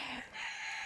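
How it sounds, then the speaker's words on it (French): A rooster crows outdoors, a single drawn-out call that rises and holds through the whole short moment, fairly clear and close with no talk over it. "Tiens, là, j'entends le coq chanter."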